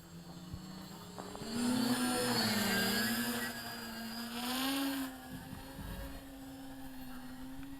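A tunnel wing STOL aircraft flies with flaps down, its engine a steady droning hum whose pitch wavers and swells slightly in loudness, heard alone without voices.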